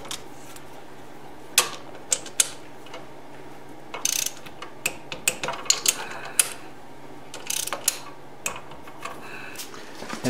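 Wrench work on the front brakes of a 1973 Honda CB750 custom build, tightening the 6 mm bolts: quiet clicking ratchet bursts and metallic taps, spaced irregularly, close up, with no talk.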